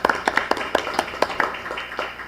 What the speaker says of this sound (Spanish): Y pido un aplauso por eso.